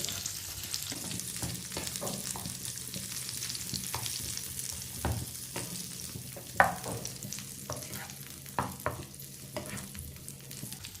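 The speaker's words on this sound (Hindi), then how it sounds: "अब इसमें खजूरें डालेंगे। खजूरों को इसमें मिक्स कर लेंगे घी में।" Dates being stirred and fried in ghee, a soft continuous sizzle broken by intermittent spoon scrapes and knocks against the pan, close up with no voices.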